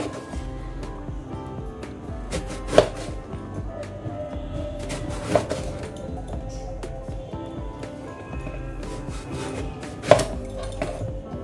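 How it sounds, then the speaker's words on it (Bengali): A knife cutting eggplant on a board, with a few distinct sharp chops spaced several seconds apart over a low, busy kitchen background. "বেগুনটাও আমি এখন কেটে নিব।"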